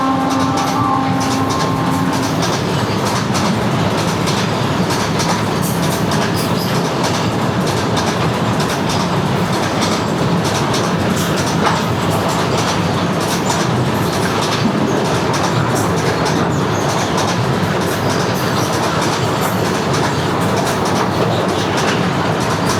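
The Netravati Express stands at a station beside a tunnel, its carriages giving a steady, close rumble with rhythmic wheel clatter throughout, and a brief tonal horn-like sound at the start.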